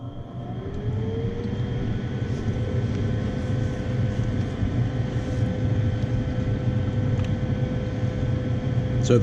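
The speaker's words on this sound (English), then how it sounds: "So the furnace is currently going through its cycles, its inducer's running." A residential gas furnace begins its cycle with the inducer fan running, a steady close whooshing hum with a low drone and a faint rising tone, continuous throughout with no speech.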